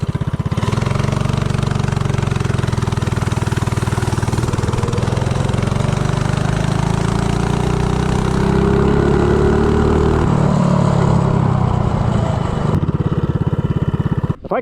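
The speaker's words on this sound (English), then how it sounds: "a header pipe on the snowblower engine" A Storm Force snowblower engine fitted with a header pipe and performance parts runs loud and close, a raw buzzing exhaust note that holds steady then rises and wavers as it revs, before cutting off abruptly at the end.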